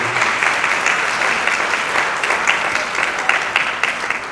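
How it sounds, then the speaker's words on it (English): A crowd at the 2019 Herbstfest Queen pageant applauds, a dense, steady wash of many hands clapping at once that holds even and full throughout with no talking over it. "let's give a big round of applause for Regan Fetter for putting this together each and every year."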